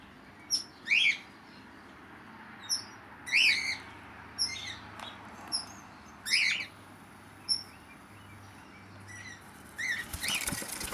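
Aviary birds give a handful of bright, sharp chirps close to the camera, spaced irregularly across a quiet outdoor background, and a flurry of wing flapping comes near the end.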